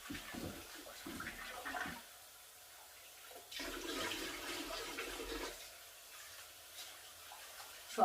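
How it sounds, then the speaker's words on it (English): Rice being washed in water for a Filipino tinolang isda, with soft sloshing and pouring splashes in short bursts, fairly quiet and close, with no talking. "So I wash the rice twice."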